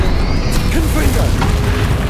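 A Confringo fire spell bursts in an explosion during combat in the video game Hogwarts Legacy, a booming blast set against dense, continuous game noise with a voice heard alongside it.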